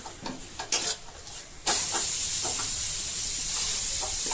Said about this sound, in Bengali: লবঙ্গটা ফাটিয়ে দিয়ে দিলাম, তেজপাতা দিয়ে দিলাম